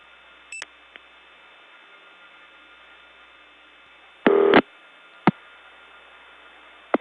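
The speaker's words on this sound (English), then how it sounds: "Let's dial a 1." Dialing a 1 on a 1979 step-by-step tandem telephone exchange in Gainesville, Georgia: a steady hiss of line noise carries a few sharp isolated clicks and one short, loud buzzing tone burst midway.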